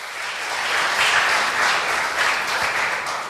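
A church congregation claps together, a dense, loud burst of applause that swells and holds steady for a few seconds with no voices.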